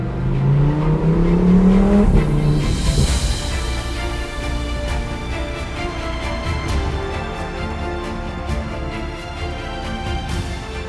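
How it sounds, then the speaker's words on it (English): An Audi R8 V10 Plus with a center exit exhaust revs and roars up in pitch, then settles into a loud, rumbling idle with crackles from the exhaust. "going back to that awesome Performante-style center exit exhaust"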